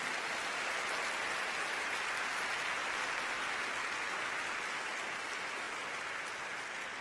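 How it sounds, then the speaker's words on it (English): A large audience at an art and social justice talk applauds in a continuous, even wash of clapping that lasts the full seven seconds, sounding slightly distant and uniform throughout. "Give a round of applause, if you would, to Jonas and Linda Price for making this possible."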